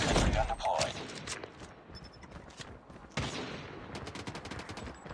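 Call of Duty Mobile match with a sentry gun deployed, rapid gunfire bursts and thuds, loud at the start then fading and returning as a fusillade, with in-game voice callouts over it.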